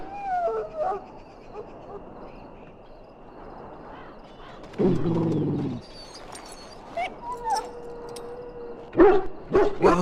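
A dog in the Dragon Age game at Ostagar gives short barks and yelps among other game sounds and bird-like calls, with a louder sustained bark midway and sharp bursts near the end.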